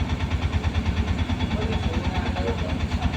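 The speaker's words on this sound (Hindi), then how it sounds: "गाड़ी को स्टार्ट करेंगे" The diesel engine of a Mahindra Jeeto BS6 mini truck with a DEF/SCR fault runs after starting, a loud, close, rhythmic idling chug with steady pulsing throughout.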